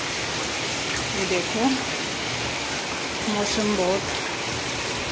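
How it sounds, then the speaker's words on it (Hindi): Heavy rain pours down around a rooftop with potted plants, a dense, steady hiss of falling water that fills the whole clip while someone speaks briefly over it. "और ये देखो कितना पानी भरा हुआ, बहुत तेज़ बारिश है।"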